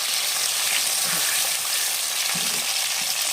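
Taro (kachu) fries in a pan with a dense, steady hiss of sizzling oil and a few soft stirring scrapes, close and even throughout.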